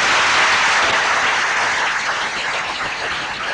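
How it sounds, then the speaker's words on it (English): Church congregation clapping together in a sustained, dense wash of applause that stays steady and fairly loud throughout, with no talking over it. "Let's give the Lord a clap offering"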